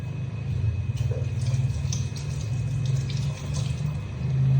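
Running tap water splashes steadily as a container is rinsed in a sink, a close continuous gushing stream with a low rumble and faint clinks throughout.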